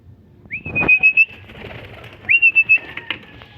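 Racing pigeons trapping into a loft, with two bright whistling calls a couple of seconds apart, each joined by a quick burst of wing flutters close by.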